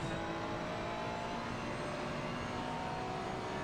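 A Lamborghini GT3 race car engine in a racing game at the Barcelona circuit, holding a steady, loud, buzzing high-revving drone with no pause, close and constant.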